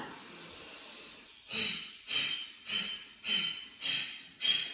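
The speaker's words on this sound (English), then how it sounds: "For your breath of fire, your Kapalabhati." Kapalabhati breath of fire done through the nose with the mouth closed: after a soft steady hiss of breathing, six sharp rhythmic nasal pumps follow, each a short forceful snorting exhale, close and moderately loud.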